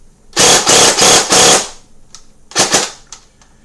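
An airsoft gun fires full-auto bursts: a loud rapid rattle of about a second, a pause, then a shorter burst with a few stray clicks trailing off.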